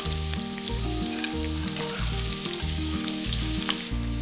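Sliced onions frying in oil with cloves, bay leaf and curry leaves for Malabar chicken biriyani. They give a steady, close sizzle that runs throughout under rhythmic background music.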